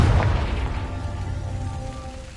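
A Confringo fire spell blast in the Hogwarts Legacy video game: a heavy low boom at the start that decays into a sustained rumbling tail with faint tonal ringing, alone without voices.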